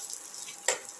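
Spices sizzling in a pan while being stirred and mixed, a faint steady hiss with one brief louder scrape or crackle near the end.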